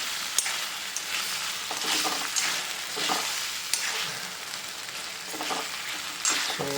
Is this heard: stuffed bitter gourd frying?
yes